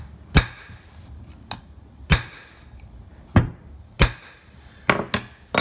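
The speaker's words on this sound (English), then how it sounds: "give it a couple of wraps with a hammer" Sharp metallic taps ring out one at a time at irregular intervals, a hammer striking a pin punch during a Kawasaki KZ engine teardown, close by in an otherwise quiet space.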